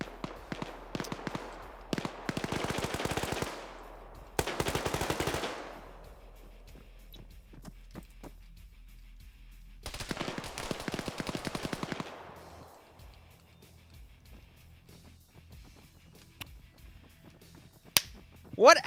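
Long full-auto machine gun bursts from a 120-player Battlefield-style PvP match, three sustained volleys of rapid shots, loud and close, with quieter gaps between them.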